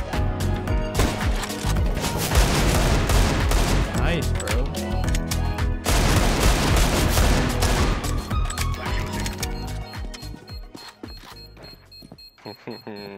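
Rapid bursts of rifle fire crack and rattle in a CS:GO match, dense volleys of close shots that thin out toward the end, with game sounds layered in.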